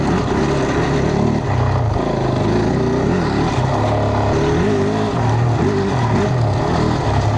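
A Kove 450 dual sport motorcycle ridden steadily, its single engine droning loudly and continuously with small rises and dips in pitch as the throttle shifts.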